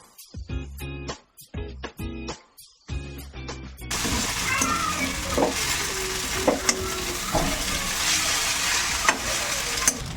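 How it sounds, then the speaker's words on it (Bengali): An egg frying in hot oil in a pan while Maggi noodles are cooked, a steady loud sizzle with crackles and stirring scrapes that starts abruptly after a few short clinks and taps. "এখন তো তেল আসলো ডিমটা দিয়ে দিলাম এর মধ্যে"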